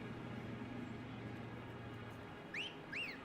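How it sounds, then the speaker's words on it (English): A radio ad in the LA Noire video game plays a faint, quiet whistle for Lemon Wash, with two short rising-and-falling whistle notes near the end over a low background hum. "That's the lemon wash whistle."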